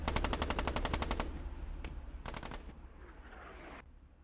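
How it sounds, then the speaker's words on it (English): A Panzer 38 tank in Post Scriptum fires its hull gun, coaxial machine gun and cannon together: a rapid, loud burst of automatic fire, then a pause and a short second burst, with fading echoes. "Panzer 38 suppressing the objective here. Hull gun, coax, and cannon all firing in unison."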